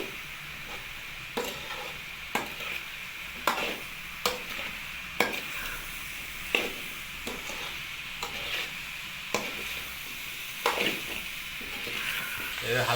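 Carrot masala being stirred and fried in a pan, with a steady sizzle underneath and repeated scraping strokes of the spoon at a regular rhythm, close and clear.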